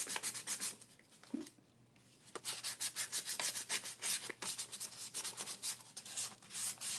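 Sandpaper is rubbed by hand across a piece of wood in quick, close, rhythmic back-and-forth strokes, briefly pausing before resuming a steady scratchy rasp.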